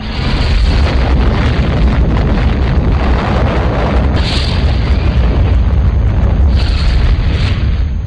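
The Little Boy atomic bomb explodes over Hiroshima at 8:15 in the morning, rendered as a loud, sustained booming roar that rumbles without letting up for about eight seconds.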